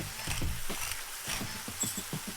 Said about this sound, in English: let's stir fry this mixture until most of the liquid is evaporated